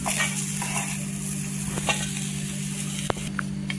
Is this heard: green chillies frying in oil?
yes